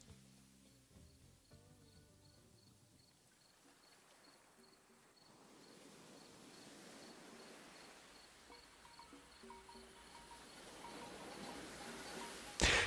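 Waves and chirping grasshoppers close out a song as the music fades away, a soft, steady insect buzz over low surf that gradually swells louder toward the end.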